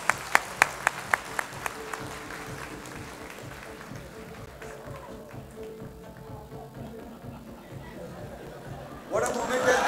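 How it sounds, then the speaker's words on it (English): At a live-streamed congress ceremony honoring Nobel laureates, a few sharp, distinct claps ring out in the first seconds, then give way to murmuring voices and general room chatter. "Give a good round of applause, please."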